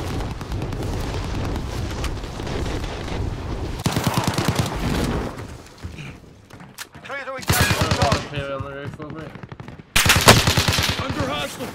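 Automatic weapon fire and explosions in a Call of Duty Warzone resurgence match on Verdansk: loud bursts of rapid shots and booms, broken by short lulls, then renewed heavy firing.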